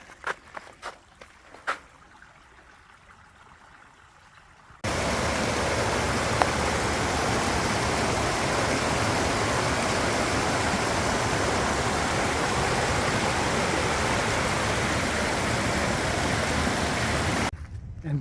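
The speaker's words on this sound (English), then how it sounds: "I'm getting into an area with a lot of stream crossings." Rushing water at a stream crossing on a forest hiking trail, a loud, dense, steady roar of flowing current that starts abruptly and fills the clip, preceded by quiet footsteps and rustling.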